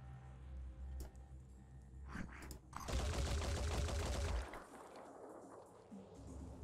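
A big gun in the Phoenix Point game rattles off a dense rapid burst of shots lasting over a second, preceded by a couple of single sharp cracks, moderately loud against quiet game ambience.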